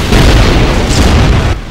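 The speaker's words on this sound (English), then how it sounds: "Shoot the junk behind us, one of our cannons." A ship's cannon fires at a sea tower in the online game Darkfall, a loud booming blast with a rumbling low-end tail lasting over a second.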